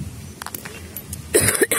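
A person with a bad cough coughs a couple of times in a short burst, close and fairly loud, after a stretch of quiet low rumble.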